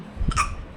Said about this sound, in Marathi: तिला लागली उचकी लागली, ती जाम इरिटेट होते